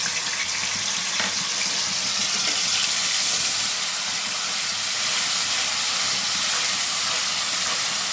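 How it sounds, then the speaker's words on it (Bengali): Onion paste dropped into hot ghee for mutton rezala gives a steady, loud broadband sizzle and hiss that runs unbroken throughout, with no talking over it. "এবার আমি পেঁয়াজ বাটাটা এতে দিয়ে দেবো।"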